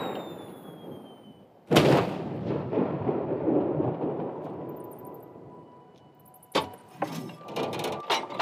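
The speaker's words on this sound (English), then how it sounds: "I was saying that was a loud firework" A loud firework explosion in a video game, a sudden booming blast that rumbles and decays over several seconds, followed by a cluster of sharper cracks and pops nearby.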